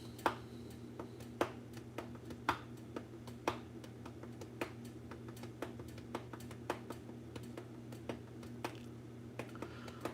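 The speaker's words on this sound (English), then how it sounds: "Trying to type the thing." Someone types on a computer keyboard during a live stream, sparse irregular clicks and taps over a steady low electrical hum, fairly close and with no voice.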